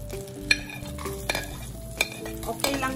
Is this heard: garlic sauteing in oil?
yes